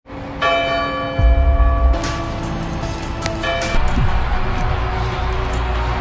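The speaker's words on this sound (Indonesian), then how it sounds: "Yang ketika Jonah berpaling karena bunyi bel" A church bell rings loud and steady with a long, sustained tone, heard in a horror film recap. Rumbling background noise and a swell of crowd-like wash sit under it.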